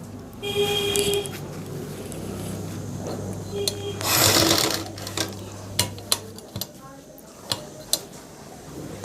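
A sewing machine stitches a salwar mohri design in short runs with pauses between them, and scattered ticks and clicks follow. A person speaks over part of it.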